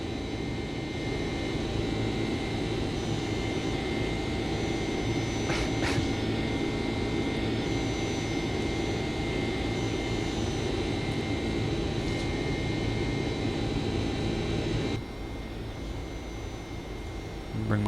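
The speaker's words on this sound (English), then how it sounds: "Flying out over the Great Salt Lake." Steady roar of Boeing 767 jet engines in flight, simulated in the Flight Factor simulator game, a broad continuous drone that drops slightly in level near the end, with a few faint clicks on top.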